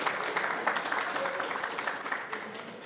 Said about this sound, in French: Encore une main d'applaudissements pour la formation nationale allemande